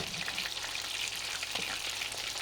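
Small fish with tiny bones deep-frying in hot oil, street-food style, give a steady, dense sizzle and crackle throughout with no talking.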